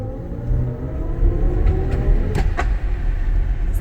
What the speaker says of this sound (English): Now this is sport mode right here.